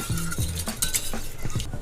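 Cranberry sauce being broken up and stirred in a slow cooker, close, clinking utensil scrapes and wet squelches in quick succession.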